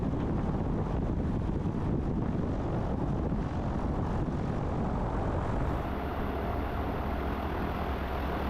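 A small airplane cruises in smooth morning air at about 2,000 feet, with a steady, continuous engine drone and wind rush throughout that shifts slightly in tone near the end.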